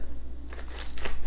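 Close, crisp crunches from biting and chewing light, crunchy Italian almond cookies, a few quick bursts in a row after a short quiet start, with no talk.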